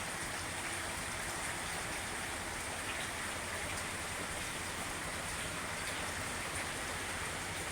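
Rain falls steadily in a dense, even hiss of countless drops spattering on surfaces, constant and moderately close with no pauses, no voices or other sounds.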